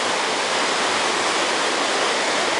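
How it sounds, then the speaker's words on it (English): A waterfall plunges off a cliff edge, heard from the very top as a loud, steady, unbroken roar of rushing water with no pauses. "We're at the very top of the waterfall."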